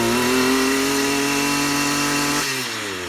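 A STIHL FS450 weed trimmer engine runs with a steady, fairly loud harmonic drone, then its pitch drops near the end as it idles down, heard alone without talk.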